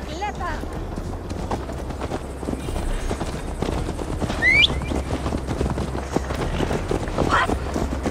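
Horse hooves clip-clop at a steady running gait while riding in Assassin's Creed Valhalla, a continuous rhythmic patter under game music and ambience, with a brief whistling tone partway through.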